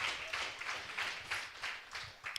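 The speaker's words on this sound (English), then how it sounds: "can we give you and women a big clap for this one?" An audience claps steadily at a He for She project launch event, a continuous wash of applause with slight swells in intensity and no voices on top.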